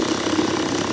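A sewing machine stitches the centre seam of inner pants with a fast, steady whirring hum and rapid needle pulses, close and continuous.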